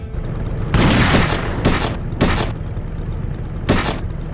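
Heavy vehicle-mounted guns firing in the video game Grimlands, four booming bursts spaced irregularly over a constant low rumble, each shot sharp and loud before fading.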